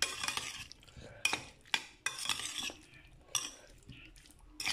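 Potato salad being mixed with sauce in a bowl, with continuous wet scraping and stirring broken by a few sharp clinks of a utensil against the bowl, close up with no voices.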